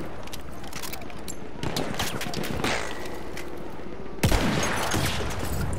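Video game gunfire cracks out in scattered shots and short bursts, moderately loud, with one heavier blast near the end and faint game ambience between.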